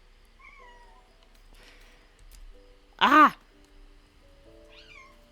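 A single loud, drawn-out cat meow rises and falls, set among quiet voices from a Baldur's Gate 3 game scene and a brief exclamation.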